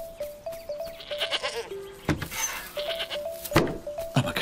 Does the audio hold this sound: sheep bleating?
yes